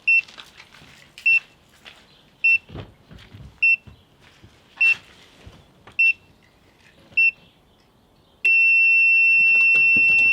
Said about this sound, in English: when the buzzer goes off again, start the car up